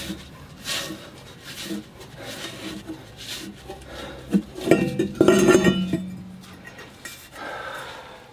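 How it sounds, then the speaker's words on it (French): Dishes and cutlery being put away in a home kitchen, a series of close clinks and clatters that grow busier midway, with scraping and rubbing between them. "Tu ranges ta vaisselle."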